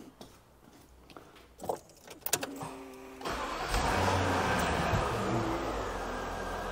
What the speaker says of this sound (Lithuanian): bandom užvest mašiną ir žiūrėt